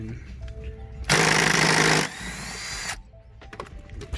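A power tool driving out a seatbelt bolt during headliner and trim removal in a C5 Audi A6 gives a loud one-second rattling burst, then a lower whirring spin for a second, amid small clicks.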